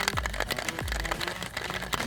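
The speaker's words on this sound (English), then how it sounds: "now it's time to shake it." A cocktail shaker holding a Casamigos tequila margarita with agave and an ice cube is shaken hard, giving a steady run of quick, rhythmic rattling clacks, close and moderately loud with no talking.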